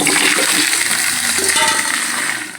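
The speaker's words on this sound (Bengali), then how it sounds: "এখন আমি আলুগুলো সব দিয়ে দেব।" Potatoes tipped into hot oil already sizzling with bay leaf, dried chili and whole cumin give a loud, dense frying hiss and crackle with a few clattering knocks, fading slightly at the end.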